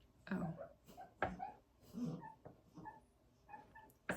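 Puppies whimpering and yipping in a home, several short high cries scattered through a few seconds, fairly close but soft, with a person talking over them.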